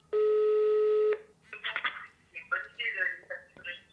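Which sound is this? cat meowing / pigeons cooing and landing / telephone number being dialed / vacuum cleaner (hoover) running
telephone number being dialed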